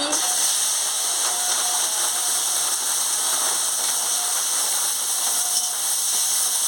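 Cumin, bay leaf and chopped onion sizzling in hot oil, a dense steady hiss and crackle held close and loud throughout.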